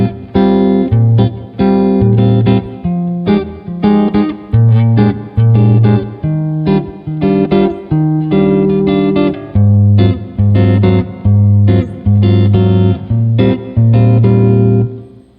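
Jazz guitar playing a busy, continuous run of single-note lines and chordal stabs over the chord changes of a jazz standard, loud and close with no talking.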